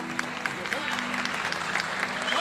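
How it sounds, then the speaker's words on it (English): Crowd at a Filipino boxing match applauds in a dense, steady patter of clapping and crowd noise, heard under a commentator's ongoing speech. "And a warm applause from the audience."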